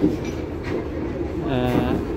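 A train at Poradah junction railway station, arriving from Rajbari and bound for Ishwardi, gives a steady, close rumble of rolling wagons, with a brief metallic tone rising near the end.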